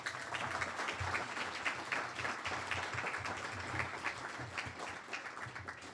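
Steady applause from an audience at an internal medicine residency graduation ceremony, honoring friends and family; dense, continuous clapping that holds at an even level throughout.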